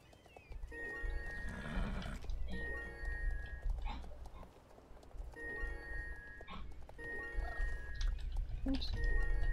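A horse neighs loudly several times in the video game Star Stable Online, with hooves clip-clopping and a low rumble of background noise between the whinnies.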